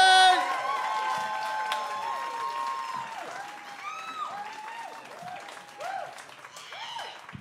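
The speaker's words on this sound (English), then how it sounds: "Go and do us some clapping, Harley." A comedy club audience claps and cheers, with whoops and shouts, as a stand-up act is introduced at a Manchester comedy venue. The applause is full and dense at first, then thins to scattered claps with voices mixed in.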